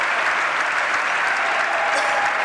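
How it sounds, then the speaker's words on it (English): Table tennis crowd at a world team championship match between Portugal and Sweden applauding a rally, loud dense clapping filling the whole stretch with a faint murmur of voices mixed in. "The crowd on their feet, they're loving it."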